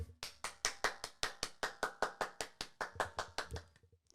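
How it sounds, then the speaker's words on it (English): A lone person claps hands in a quick, steady rhythm of about twenty sharp claps, close and fairly faint, slowing slightly at the end with no other voices. "I'm the only one clapping"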